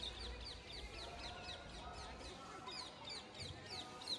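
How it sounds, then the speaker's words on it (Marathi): Small birds chirp in a steady, repeating pattern of quick high tweets, faint and distant, over a soft outdoor hum in the garden of Lal Bagh Palace, Indore. "गार्डन वगैरे आहे, पक्ष्यांचे आवाज येत आहेत."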